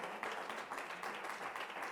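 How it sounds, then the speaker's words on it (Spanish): Church congregation applauding the Lord after a prayer, a steady, fairly faint wash of many hands clapping heard from a distance, with no break for the full stretch. "Puede darle un fuerte aplauso al Señor"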